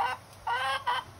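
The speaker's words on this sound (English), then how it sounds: "She's 2 years old, that chicken." A two-year-old backyard hen clucks in four loud, close bursts, evenly spaced with short pauses between, and no voices over it.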